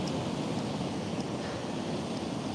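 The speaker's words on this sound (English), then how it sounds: "It's the waves crashing, churning up the salt air." Sea waves break and churn on the shore in a steady, broadband wash with no clear gaps between swells, heard alone at moderate volume.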